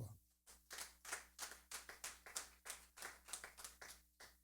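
A church congregation claps in unison to acclaim the King of Kings, a steady rhythmic beat of sharp claps, about three per second, moderately close in a reverberant hall.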